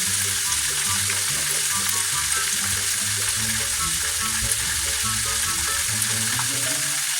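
Hot oil in a frying pan, used for frying pork chops, sizzles loudly and continuously as flour is shaken in for gravy. A faint low rhythmic pattern runs underneath throughout.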